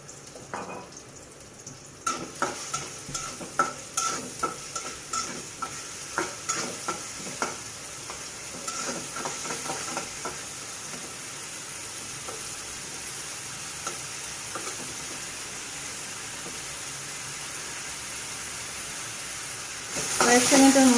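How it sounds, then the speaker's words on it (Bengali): Onion, green chili and garlic frying in soybean oil in a pan, with a steady close sizzle and a run of rhythmic stirring scrapes early on, then continuous hiss and a louder burst near the end. "কয়েক সেকেন্ডের মতো এভাবে পেঁয়াজ, কাঁচামরিচ, রসুনটা আমি একটু ভেজে নেব"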